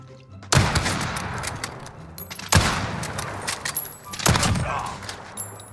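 Sniper rifle shots from the video game Call of Duty: Modern Warfare, three loud sharp cracks spaced about two seconds apart, each trailing into a rumbling echo, with faint game effects between them.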